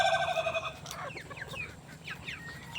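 Chickens clucking in a busy flock, with a rooster-like call early on and repeated short clucks over a steady farmyard background.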